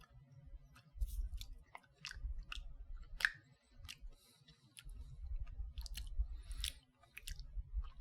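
Someone eats candy-flavored yogurt off the foil lid, with soft close-up mouth sounds, wet smacks and small clicks coming in irregular bursts separated by short pauses.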